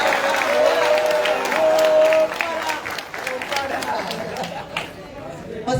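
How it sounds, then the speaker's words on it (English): An audience applauds at a gathering in Sierra Leone, crowd clapping mixed with chatter and cheering, busy and fairly loud throughout. "Can we applaud the home father?"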